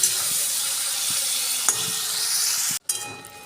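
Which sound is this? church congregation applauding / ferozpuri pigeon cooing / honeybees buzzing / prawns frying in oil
prawns frying in oil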